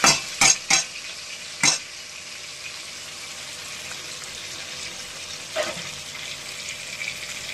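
Tomato and spices fry in oil in a pan, a soft steady sizzle running throughout while a utensil scrapes and clinks against the pan in a few sharp strokes early on and once more near the end.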